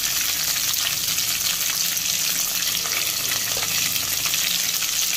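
Indian borage leaves sautéing in a hot pan produce a loud, continuous frying sizzle, close and even, with light stirring under the steady hiss.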